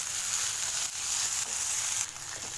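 A steady, hissing sizzle of tomatoes sautéing in a pan, close and continuous, with faint stirring scrapes.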